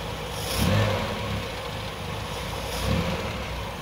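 A 1966 Triumph Spitfire engine idles roughly up close, then rises in two short throttle blips that swell and fall back, with no voices.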